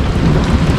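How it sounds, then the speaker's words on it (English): Thunder rumbling through a heavy rainstorm in Central New York, a loud, steady low roar with rain hiss and no talk. "You see the thunder?"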